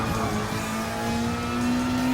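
A Porsche 911 race car in Gran Turismo Sport drones at steady high revs on the Tokyo Expressway during a Gr.3 endurance race, a loud sustained engine tone slowly rising in pitch with tire noise underneath.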